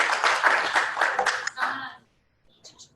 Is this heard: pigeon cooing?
no